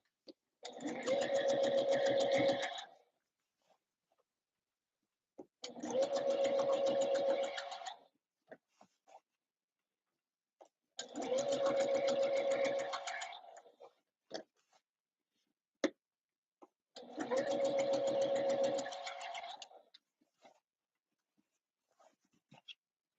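A sewing machine stitches Christmas dresses in four steady, buzzing bursts of about two to three seconds each, separated by pauses with small clicks and handling noises; close and clear, with no talking.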